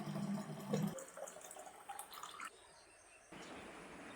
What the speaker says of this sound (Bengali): এদিকে জল বোতলটি ভরে নিচ্ছে ও তো আবার বাজাতে এসে খাবে জল বোতলটি ভরে নিই